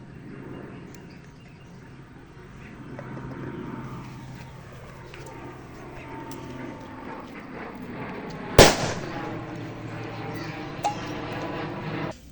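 A homemade Diwali rocket packed with Khorsani and Nagin firecrackers goes off outdoors: one sharp, loud bang cracks through a steady background rumble, followed a couple of seconds later by a smaller, fainter pop.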